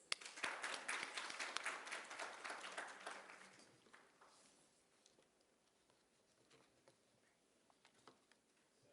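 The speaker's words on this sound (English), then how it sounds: "Join me in a round of applause" Applause from an audience at the UAE-India Business Fest 2017, loud clapping at first that thins out to scattered claps as it fades away.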